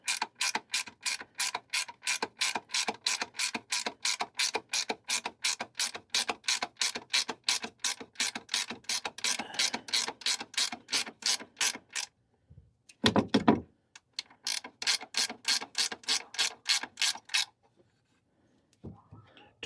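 A ratchet wrench tightens bolts on truck running boards. It gives long runs of fast, close, evenly spaced clicks, breaks for a brief clunk, then ratchets again before falling quiet.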